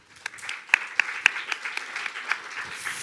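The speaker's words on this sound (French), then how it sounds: "Merci beaucoup Valérie, ça s'acclame également." An audience at a round-table discussion applauds, a moderate patter of hand claps with a few sharper, distinct claps standing out, steady for a few seconds at a middle distance.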